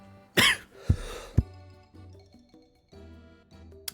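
A person gives two or three sharp, harsh coughs in quick succession, close and loud, then falls quiet, leaving a faint tonal backdrop of game music.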